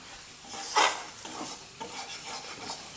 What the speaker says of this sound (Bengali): মশলাটা কষা হয়ে এসছে, আর একটু মশলা কষা হয়ে এসছে